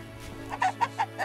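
Chicken in The Witcher video game clucking, four short, evenly spaced clucks over a steady low hum, close and moderately loud.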